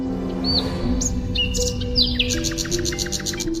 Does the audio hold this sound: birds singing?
yes